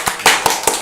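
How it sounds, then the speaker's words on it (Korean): Church congregation clapping for an elderly deaconess, with four sharp, evenly spaced hand claps close by in under a second. "우리 박수로 한번 해주세요"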